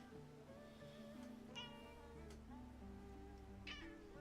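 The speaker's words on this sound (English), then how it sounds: "Oh, kitty." A cat meows a few times, faint and drawn out, over a steady background hum with no clear talking.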